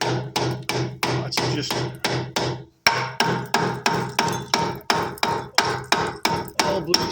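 Repeated heavy hammer blows on a rusty cast brake drum, a steady rhythm of loud ringing metallic strikes, close up, with a brief pause partway through and a few words spoken.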